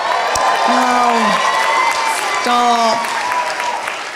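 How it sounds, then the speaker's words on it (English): A stand-up comedy crowd claps and cheers loudly and steadily, with whoops rising here and there and a voice speaking briefly over the applause. "I don't deserve to be applauded"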